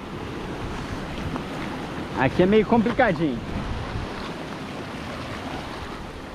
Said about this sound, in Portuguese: ver, ó, as ondas, ó